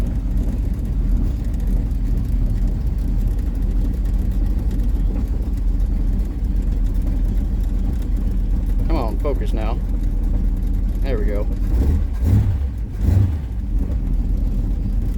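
A truck engine idles steadily after a cold start with the choke on, a continuous low rumble close by, while someone speaks briefly over it and a couple of short knocks sound near the end.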